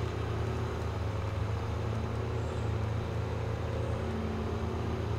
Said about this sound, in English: Oh, this revving and wheel spinning is killing the fuel.